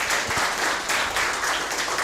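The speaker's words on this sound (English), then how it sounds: "I'd like to please invite all of you to give a round of applause to our speakers" Audience applause at the close of an ethics and climate change seminar, a steady dense wash of many hands clapping for the speakers, sustained and fairly loud throughout.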